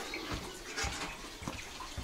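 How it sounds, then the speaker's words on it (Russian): Spring water splashes and trickles into a metal bucket at an outdoor spring in Diveyevo, a steady gurgling flow with soft irregular sloshes, fairly quiet and without voices. "Вот ведром берем водицу."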